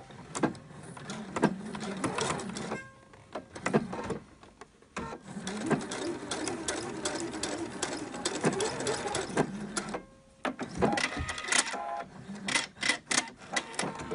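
A sewing machine edge-stitching a folded fabric ribbon runs in close, steady whirring bursts, pausing briefly between runs with faint mechanical clicks.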